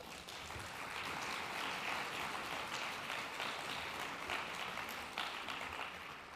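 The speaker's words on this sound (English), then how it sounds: "So an applause for these wonderful women." An audience at a live-streamed Education International event in Morocco applauds, a sustained wash of clapping that swells then tapers over several seconds, with no speech.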